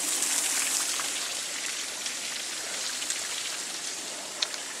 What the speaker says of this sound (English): Can you see that falling water?